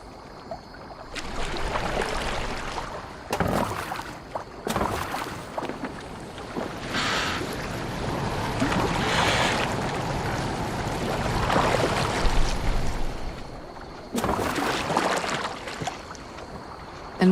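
A boat moves across open water in Assassin's Creed Valhalla, with a steady rush of wind and water wash, broken by intermittent splashing bursts and sloshing surges, fairly loud and continuous with no voices.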